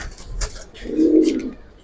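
A male Giribaz pigeon gives a single soft, low coo near the close of the clip, set against quiet rustling and faint background noise.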